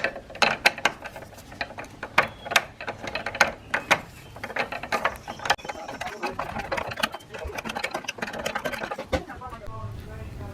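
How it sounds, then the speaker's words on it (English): A 5/16 ratcheting wrench turning a nut on a Chamberlain garage door opener, rapid close ratchet clicks in bursts with metallic knocks and handling noise, and a voice speaking at times. "And a ratcheting wrench, 5/16 works better on this one nut here that's more inside"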